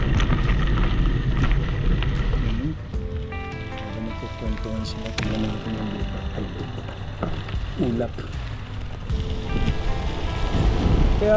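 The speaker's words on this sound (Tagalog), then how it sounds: "ulan pababa na" Steady rain falls in a high mountain village in San Nicolas, Pangasinan, a constant close hiss that runs through the whole stretch with no break.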